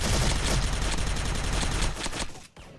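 Rapid automatic fire from an M4 Raptor rifle in the online shooter Special Force, a dense, loud stream of shots for about two seconds before it stops abruptly.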